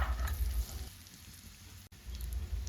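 Green chilies frying in oil in a pan for methi matar pulav, with a soft, quiet sizzle that dips briefly in the middle before returning, no talk.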